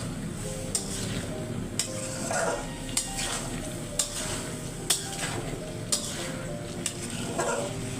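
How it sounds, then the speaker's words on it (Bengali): Eggs fry in a spiced tomato masala, a steady loud sizzle broken by regular clinks of a spatula against the pot, roughly once a second, with occasional scraping stirs. "টমেটো দিয়ে কষিয়ে তারপরে তরকারিটা দিয়ে দেবো মশলাটা কষিয়ে তারপরে যে আমি এখন ডিম দিয়ে দিলাম"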